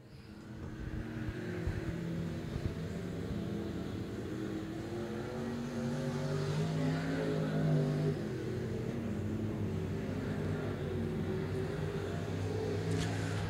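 IMCA stock cars race around the dirt oval at Canyon Speedway Park in a Stock Car Main, several engines droning and rising in pitch as cars sweep past at a distance, a steady layered roar without talk.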